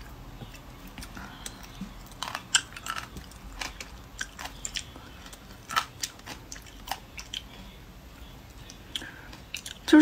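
Crisp bites and chewing on a crunchy fruit that tastes like cucumber, with seeds inside and edible skin. Sharp, close crunches come in uneven bursts over a quiet background.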